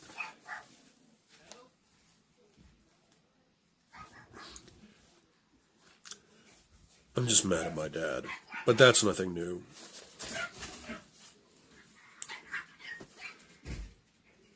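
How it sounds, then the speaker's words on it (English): Dogs barking and whimpering indoors in a house, brief yelps and whines rising in a burst midway, mixed with a person talking nearby. "Shut the dogs up!"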